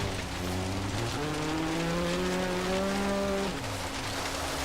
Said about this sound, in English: I like that sound a lot better for the rally car